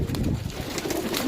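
Pigeons coo close by in a loft or yard setting, a steady low murmuring of soft cooing calls running throughout with faint background rustle.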